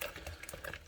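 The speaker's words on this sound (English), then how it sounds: "I'll just take a plastic spoon and I'll get this mixed up" A plastic spoon stirring a thick, wet fruit fly food mixture, giving soft squelching scrapes in a quick uneven rhythm, close and faint, with no speech.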